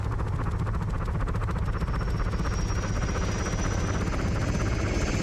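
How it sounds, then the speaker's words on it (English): A military helicopter in the video game Arma 3 spools up, its rotor producing a loud, continuous rhythmic thumping drone with a rising high whine, heard alone and close. "Helicopter spooling up for the last minute here."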